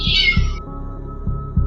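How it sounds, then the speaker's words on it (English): A cat meows at a door: one clear, close meow at the start, then a few soft low thumps in an otherwise quiet room. "he could still hear his cat meowing at the door for hours"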